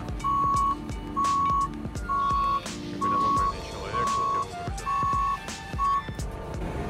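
Repeated reversing beeps from a forklift unloading damaged cars at a Copart salvage auction lot in the USA, a steady train of loud half-second tones with short gaps, over clattering yard and vehicle noise with voices in the background.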